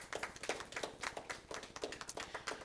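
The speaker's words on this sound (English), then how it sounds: "I think that deserves a round of applause." Applause at a quarterly press conference after the announcement of the Creative Arts Center construction, heard as a faint, steady patter of scattered hand claps from a small audience with no talk.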